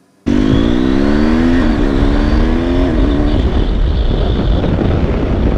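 A BMW GS motorcycle in Dynamic Pro riding mode revs hard and loud, its engine note climbing steadily and then holding a strong, sustained roar with no voices.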